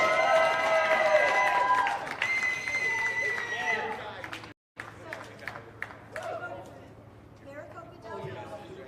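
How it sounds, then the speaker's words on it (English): A crowd at an outdoor rally in downtown Phoenix claps and cheers in a burst that fades into scattered applause and chatter, with voices talking over it. "Give a round of applause."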